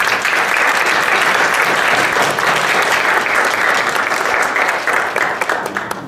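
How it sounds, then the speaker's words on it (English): Sustained, loud applause from an audience at a university panel dialogue on racism, dense clapping throughout that tapers off slightly at the end. "I would like us to give a round of applause to our panel"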